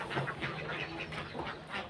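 Ducks at the Jinda Park duck farm quack repeatedly in a steady, overlapping chorus, moderately close, with no talk over them.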